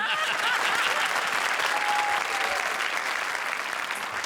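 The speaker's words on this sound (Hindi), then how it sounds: "जोरदार तालियां" Loud, sustained applause from a comedy show's studio audience, a dense, steady wash of clapping with no break.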